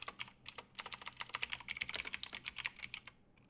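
A computer keyboard clatters under fast typing, a dense run of crisp close keystrokes and clicks in quick irregular bursts, quiet overall and with no talk.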